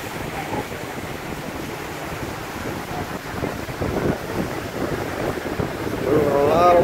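Ocean waves and steady wind noise roll past as a Carnival cruise ship departs Cape Canaveral. The water wash is continuous and grows slightly louder at the end, with faint voices in the background.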